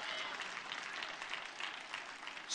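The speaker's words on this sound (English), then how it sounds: "Give the Lord a clap offering." A church congregation gives sustained applause during a sermon, a dense, steady wash of many hands clapping together that holds at an even level throughout.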